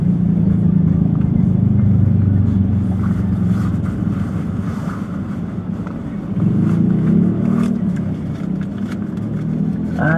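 A taxi car driving through a crowded neighborhood, heard from inside the cabin as a loud, steady low engine and road rumble that rises and falls slightly, with faint clicks and no clear talk.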